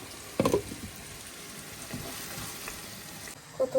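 Beef roast frying in a pan, giving a soft continuous sizzle with a couple of louder clattering stirs, heard up close at low level.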